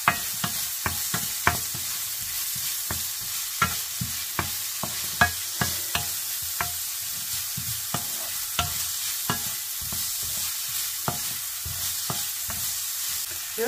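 Onions and bacon sizzling in a pan for a sour bacon sauce, a steady close crackle broken by regular sharp scraping clicks of stirring throughout.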